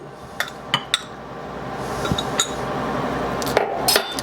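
A utensil clinks and scrapes against a bowl while banana bread cheesecake batter is mixed, with scattered sharp taps over a soft continuous stirring noise and no talk.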